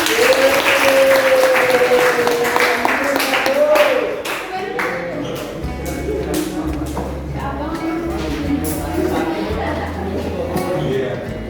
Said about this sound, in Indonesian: kita beri aplaus atas presentasinya